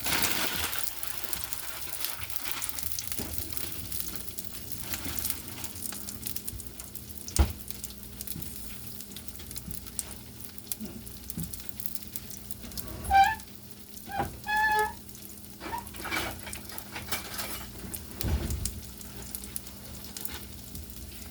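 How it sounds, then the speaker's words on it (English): Quail eggs or ingredients stir-fried in a pan, with continuous soft sizzling and frying crackle, intermittent scraping stirs and a few louder clanks of utensil against the pan, with no talking. "Now we're going to stir fry those till they're soft."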